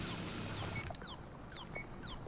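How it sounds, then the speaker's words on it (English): Short high electronic beeps repeat at a quick irregular pace from the tracker beacon beside a missing MIA operator in Rainbow Six Extraction, faint and close against a low game ambience. "You can hear that little tracker beacon that's going off next to him."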